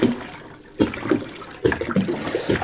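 Water being tipped into a shrimp tank during a water change, heard as several separate splashing pours in quick succession, fairly close and loud.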